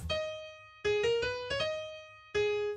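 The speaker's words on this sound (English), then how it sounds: "Next to him on the wall are these two bars of music written out," Two bars of written music from The Division video game are played as a short, clear melodic phrase of a few sustained notes with bright harmonics, moderately quiet and heard alone.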